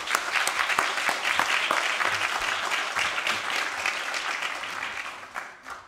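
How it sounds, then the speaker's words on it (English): An audience at a research seminar breaks into steady applause, dense overlapping clapping that holds for several seconds and then tapers slightly, with no talking over it. "Let's give her a round of applause and welcome."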